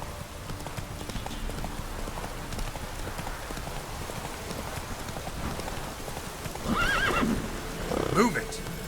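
Roach the horse in The Witcher 3 whinnies twice near the end over a steady patter of hoofbeats and rain, with a voice speaking faintly underneath the game sounds.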